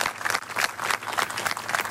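A crowd applauds steadily, many hands clapping in a dense, even wash of sound throughout, with no voices.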